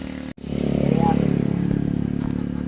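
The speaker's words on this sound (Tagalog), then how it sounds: "Ang motor nito ay Motorstar MSX 150 SR." A blue Motorstar MSX 150 SR motorcycle, about nine years in service, idles steadily nearby with a low harmonic engine hum. The hum pauses briefly near the start and then keeps running.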